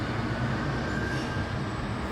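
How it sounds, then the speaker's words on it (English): A Great Western Railway service bound for Cardiff Central passes through St Denys station, its steady, loud rumble heard from the footbridge without pause or voices. "Now passing through is the Great Western Railway service"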